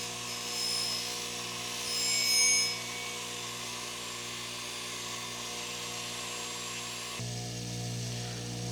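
A small power tool whines steadily while smoothing the sharp edges of an AMT Backup pistol, a faint, continuous high-pitched hum with slight swells that shifts to a lower drone near the end.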